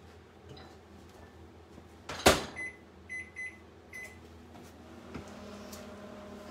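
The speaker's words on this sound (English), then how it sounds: "I'm gonna put this back in the microwave for 2 more minutes" A kitchen microwave oven is set going: a sharp door thump, a short run of electronic keypad beeps, then a faint steady hum as it runs.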